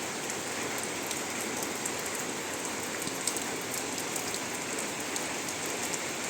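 Steady rain falling in a village, a dense even hiss of drops on surfaces at low level, continuous with no voices.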